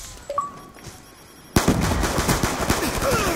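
Gunfire in the video game Black Ops II, with a couple of faint clicks in near quiet that suddenly give way to loud, rapid automatic bursts and dense overlapping shots that continue to the end.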